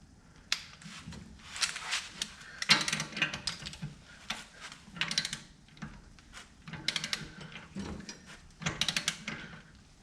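Ratcheting clicks from a torque wrench tightening the lower nut on a Jeep Wrangler JK ball joint to 85 foot-pounds, coming in several close bursts of rapid clicking with short pauses between strokes.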